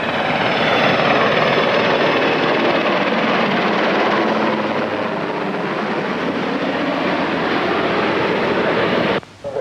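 Coast Guard helicopter flying close by over Chichester Harbour, a loud, sustained rotor and engine roar with steady thudding that holds for nine seconds before cutting off abruptly.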